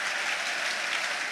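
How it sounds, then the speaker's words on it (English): A football stadium crowd at a Southampton versus Leeds United match applauds a player in steady, broad clapping that fills the whole moment without pause. "Sulemana clapped on his way around the pitch"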